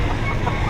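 Roosters for sale at a Batangas poultry market, Golden Boy and Gilmore Hatch breeds around eight months old, clucking in a short burst over a dense, noisy background.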